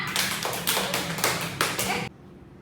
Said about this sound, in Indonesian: Tepuk tangan dulu semua.